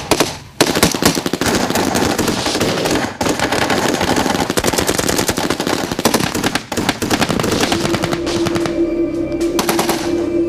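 Heavy gunfire in a ferocious firefight involving an SAS patrol behind enemy lines, with rapid continuous automatic bursts, loud and close, dense cracks filling the whole stretch, and a steady tone entering toward the end.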